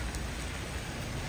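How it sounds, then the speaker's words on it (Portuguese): Rain falls steadily in Balneário Camboriú, Brazil, a dense, even hiss of drops on surfaces that holds without a break for a brief moment, with nobody talking. "Olha a chuva. Chuva e chuva."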